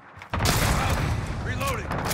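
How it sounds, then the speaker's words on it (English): Loud burst of layered explosions from an allied cluster strike in Call of Duty: Modern Warfare, erupting suddenly after a quiet start and rumbling on with dense booms and crackle, a few whistling streaks riding over the blasts. "Allied cluster strike inbound."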